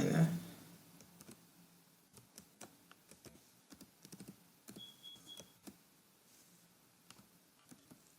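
Typing on a computer keyboard while writing a comment in R code, quiet close key clicks in uneven bursts and short pauses, soft and alone in a still room.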